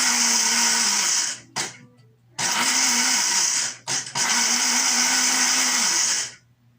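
A blender whirs loudly as it purees passion fruit for cremas, running in three long bursts separated by short pauses and stopping at the end.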